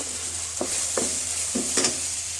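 Three green chilies frying in hot oil, a dense continuous sizzle with a few soft spatula stirs and pops over the hiss.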